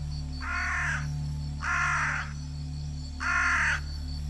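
A jungle crow caws three times, each harsh call about half a second long with a steady pause between, loud and close over a low background hum.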